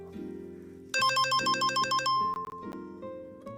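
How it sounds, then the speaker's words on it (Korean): A woman's mobile phone rings on a subway train with a bright electronic melodic ringtone, a repeating tune of high chiming notes over a steady lower accompaniment, heard close and clear with no talking. "근데 남자의 맞은편에 앉아 있는 여자의 전화벨이 울리는 거야"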